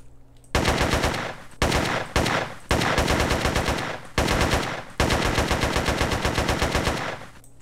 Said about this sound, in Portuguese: Tiro da M4 e da AK, né?